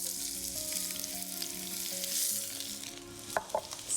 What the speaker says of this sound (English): in goes a little bit more extra virgin olive oil, some finely sliced onions,